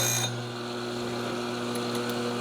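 An electric grinder hums steadily while sharpening the cutters of a chainsaw chain, a close, continuous whine after a brief initial bite, with faint light clicks.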